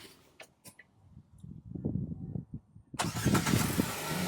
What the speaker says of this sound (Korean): 시동 버튼 한번 눌러볼까요?